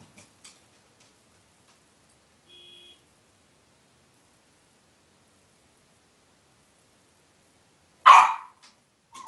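A dog gives one sharp bark in a quiet room during a Magic: The Gathering legacy tournament, with only faint ticks and a brief soft tone around it.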